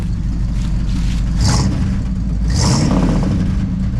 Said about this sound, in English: Justin, just tap the throttle just a little bit.